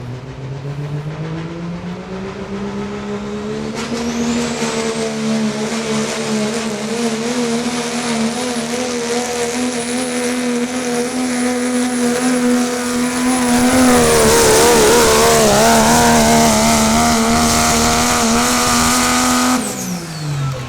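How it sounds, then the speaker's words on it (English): A 2006 Dodge Ram diesel pulling truck with a single turbo and nitrous roars steadily for about twenty seconds at a truck and tractor pull. The loud engine note and turbo whine climb and waver near the end before cutting off abruptly. "2006 Dodge Ram, single turbo with nitrous."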